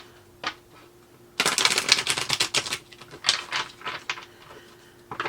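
Tarot cards being shuffled by hand, a dense burst of rapid riffling clicks after a brief tap, then scattered card flicks and a final snap, close and fairly loud.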